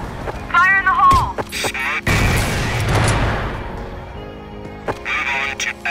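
A grenade blast and bursts of rapid gunfire crash through a CrossFire clan match, with one loud explosion mid-way and sharp shots before and after, while players talk over the din.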